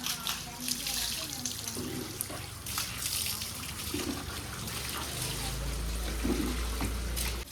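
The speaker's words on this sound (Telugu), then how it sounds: "లాస్ట్ ఒకసారి వాటర్ పోసేస్తాం, అయిపోతుంది." Water is poured over a dog at the end of its bath, splashing and trickling steadily at close range while people talk intermittently.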